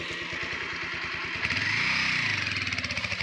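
A motorcycle engine idling close by at parking, a rapid putter that rises briefly in revs and then settles back into an even, pulsing idle.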